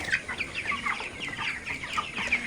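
Many chickens cluck and squawk together in a continuous, busy chorus, fairly close, with no talking.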